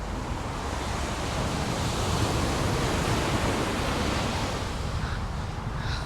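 Wind blowing across a wireless microphone on a Los Angeles surf-fishing beach makes a constant loud broadband roar, blended with the wash of surf and holding steady throughout.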